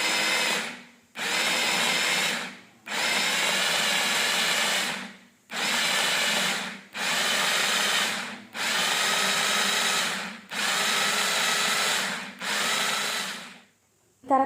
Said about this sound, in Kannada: ಈರುಳ್ಳಿ ಮತ್ತು ಕೊತ್ತಂಬರಿ ಸೊಪ್ಪನ್ನು ಕೂಡ ಈಗ ಈ ಚಾಪರಲ್ಲಿ ಹಾಕಿ ಚಾಪ್ ಮಾಡ್ತಾ ಇದ್ದೀನಿ.